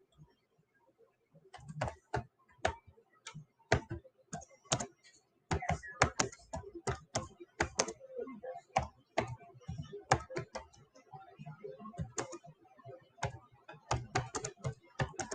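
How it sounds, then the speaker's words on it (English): Computer keyboard keys clack in uneven, hesitant clusters, a slow typist pausing between short runs of sharp, close taps. "I'm a slow typer, I'm sorry."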